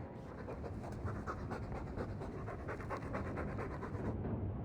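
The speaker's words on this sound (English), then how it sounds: "All that noisy dog breath, day in, day out, make him stop." A dog pants steadily in the video game Dragon Age 2, a continuous close, breathy rhythm of quick huffs that runs on alone without speech before cutting off near the end.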